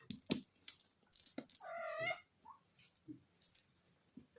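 A kitten bats at a rattling toy indoors, producing quiet, scattered clicks and rattles with a short meow in the middle, all soft and close.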